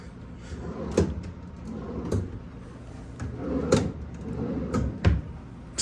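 Wooden drawers in a hotel room slid open and shut several times, each with a soft rumble and a knocking thud, spaced about a second apart.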